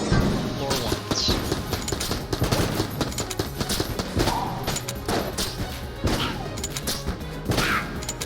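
Rapid AK-47 fire in Enter The Gungeon, repeated bursts of sharp cracks and impacts over a dense game soundtrack, loud and steady throughout with no speech.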